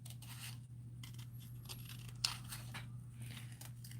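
Scissors snip through paper in a quiet room, a few faint crisp cuts and rustles spread over several seconds above a steady low electrical hum.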